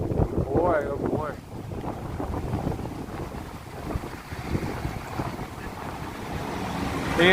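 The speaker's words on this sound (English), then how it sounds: "it's windy" Wind buffeting the microphone on a New York street, a rough steady rushing roar with gusts, brief voice-like sounds near the start and continuous blustery noise after.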